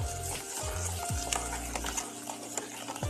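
Raw mango pulp cooking with sugar for aam papad, stirred in a pan, with soft sizzling, bubbling and repeated scraping strokes, close and fairly quiet, no voices.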